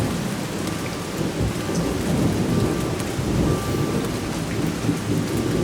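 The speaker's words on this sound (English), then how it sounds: "We're in Big Bear and there's lots of thunder and lightning." A thunderstorm in Big Bear: steady heavy rain hissing on surfaces with low rolling thunder beneath, continuous and fairly loud throughout, with no talk.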